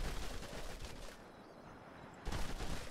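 Musketeers firing muskets at a troll in the turn-based strategy game Age of Wonders III, with dense, noisy bursts of shots that briefly dip in the middle before a loud final volley.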